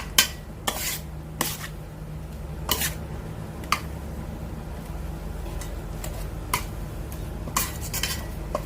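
Food being mixed and tossed by hand, likely a Thai cabbage dish, heard as soft intermittent clinks and scrapes of utensils against a bowl, spaced irregularly over a low steady hum.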